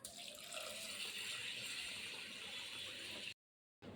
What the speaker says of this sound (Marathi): आता आपण ह्याच्यामध्ये पाणी टाकायचं आहे परत